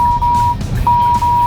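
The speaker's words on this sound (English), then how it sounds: "the alarm reminds me that there is someone in my blind spot." A 2015 Hyundai Santa Fe blind spot warning alarm sounds as two sustained, steady electronic tones separated by a short gap, clear over a low rumble of road and cabin noise.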